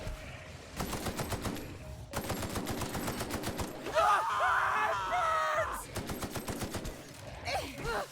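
Rapid bursts of assault rifle fire in The Outer Worlds, steady automatic volleys with short gaps, joined midway by a harsher crackling burst and shouting, then more rattling fire to the end.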